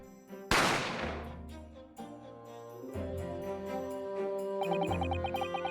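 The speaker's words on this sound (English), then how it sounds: "I didn't have time to think about where the sound of the gunshot had come from." A gunshot sound effect from The Great Ace Attorney video game cracks out loud and sharp with a single blast, then gives way to layered game music that plays on alone.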